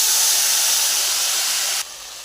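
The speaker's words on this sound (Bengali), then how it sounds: "এখন আমি যে কাঁচা লঙ্কা সরষে টমেটো পেস্ট করছি সেটা ঢেলে দেবো" Hot oil sizzles loudly and steadily as a green chili, mustard and tomato paste is poured into the pan, the hiss dropping sharply near the end.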